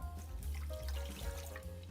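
Water poured into a slow cooker over beef bouillon cubes, a soft splashing trickle that runs steadily for a couple of seconds, quiet and close, with no speech.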